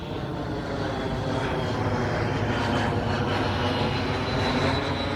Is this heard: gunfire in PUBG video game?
no